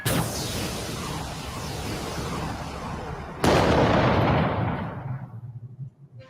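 A shot fires in the Helreach video game: a sudden loud blast cuts through a rumbling noise bed midway, then its roar rolls off and fades into scattered crackles.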